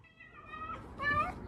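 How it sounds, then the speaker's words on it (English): A cat making drawn-out, wolverine-like growling meows while eating a whole cooked red bell pepper, two strained vocal bursts up close, the second louder, with no talk over them. "It's the cat eating the red pepper."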